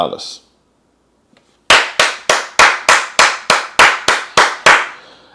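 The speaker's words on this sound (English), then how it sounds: "I'm gonna give a hand clap for that" Single person's hand claps, about a dozen sharp, evenly spaced claps ringing out loud and close after a brief silence, with no talking over them.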